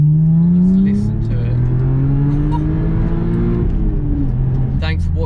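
An Audi S4 estate engine with a manual gearbox revs up and down repeatedly, loud and close, its pitch sweeping upward through gears, with a brief voice near the end.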